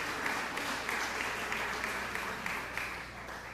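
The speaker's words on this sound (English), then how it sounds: "please give her a round of applause as well" Applause rolls steadily through the audience at a human rights celebration and awards event in 2022, a fairly faint, continuous clatter of many hands with no pauses.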